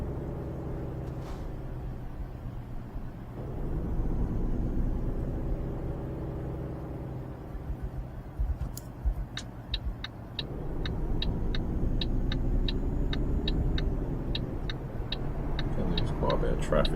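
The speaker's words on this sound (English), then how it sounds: "Quite a bit of traffic going into the port." Road traffic in Euro Truck Simulator 2 heading into the port at Dover, with a steady engine rumble from a 27-tonne Volvo FH 2012 truck and regular ticking indicator clicks in the second half.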